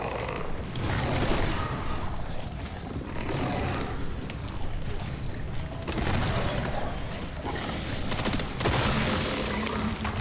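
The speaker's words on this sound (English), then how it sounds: "Let me use at least like 2 grenades." Grenades go off in the video game Resident Evil Requiem during Insanity-difficulty combat, a dense, continuous roar of blasts and gunfire-like crackle that stays loud throughout.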